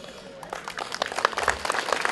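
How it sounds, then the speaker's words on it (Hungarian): Scattered applause rises at a school opening ceremony, a small crowd clapping faintly at first and then growing busier and more distinct over two seconds. "Megérdemlik a tapsot."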